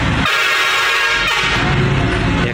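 Truck air horn blaring loud and steady over continuous roadside traffic noise, the horn sustained for several seconds close by with engine rumble underneath.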